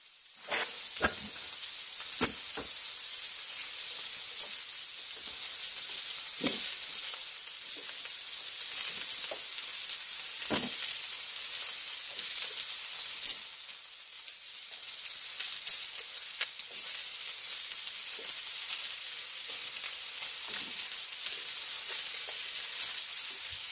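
Tossed vegetables frying in a pan on a stove, a steady loud sizzle with bright hissing throughout and occasional sharp crackles and stirring taps, no voices.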